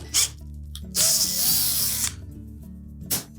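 A power drill drives a tap or screw into the hinge mount of a Whirlpool range oven, cutting a thread in short close whirring bursts, with one longer run in the middle and brief pauses between.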